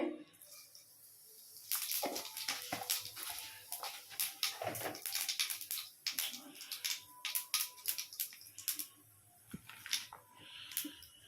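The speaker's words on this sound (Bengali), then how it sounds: "তার মধ্যে আমি দিয়ে দিচ্ছি ফোড়নের জন্য দিচ্ছি একটু গোটা জিরে" Whole cumin seeds sizzle in hot white oil, bursting into a busy run of sharp, close crackles and spits after a quiet start, continuing unevenly to the end.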